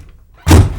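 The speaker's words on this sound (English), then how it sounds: "The door opens with a loud bang." A single loud, close thunk of a door banging open cuts sharply through near-silence and is followed by a short, dull decay.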